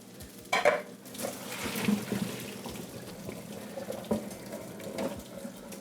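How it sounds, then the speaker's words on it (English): Boiled pasta water pouring out of a pot on an electric stove, with a sustained splashy rush of water and metallic clanks of the pot and utensils. "I'm going to drain it. So this is a quick solution to draining the pasta."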